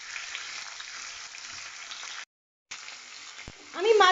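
Pieces of rohu fish fry in a pan with a steady broadband sizzle that drops out briefly, then resumes and swells louder near the end, with a faint tonal clink at the close.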